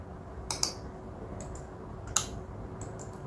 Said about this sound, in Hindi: क्लिक के इफेक्ट है जो माउस क्लिक है